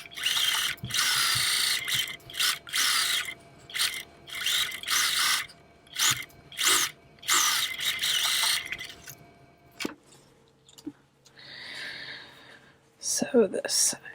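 A sewing machine stitches a fitted face mask with a dart and gusset in short repeated bursts and stops, with a person talking between and over the runs.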